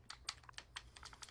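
Rapid typing on a computer keyboard during an online game, a quick irregular patter of close, crisp key clicks heard alone without voices.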